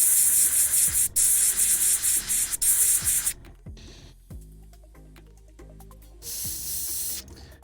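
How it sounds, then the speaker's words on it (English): Silver spray paint hisses from an aerosol can in several loud, close bursts of a few seconds each, separated by quieter gaps with small clicks and handling noises. "I'm gonna spray the bottom portion of this shoulder"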